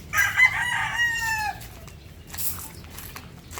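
A rooster among backyard hens crows once, loud and near, a long drawn-out call lasting over a second, followed by quieter clucking and outdoor ambience.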